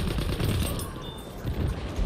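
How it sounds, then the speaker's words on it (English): Rapid bursts of M-18 Trench shotgun hip fire in Battlefield 1, loud booming shots layered over a dense, noisy battlefield din for a couple of seconds. "the hip fire on this M-18 trench"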